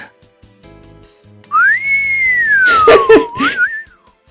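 A goofy, sliding whistle from the Dies irae visual novel rises and then glides slowly downward over soft background music, with a brief warbling flourish near the end.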